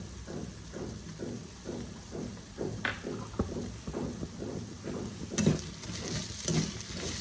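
A spoon stirring and tossing a snack mixture with chili flakes and chopped coriander, giving soft repeated scraping and rustling strokes in an even rhythm, close and moderately loud, with no talking.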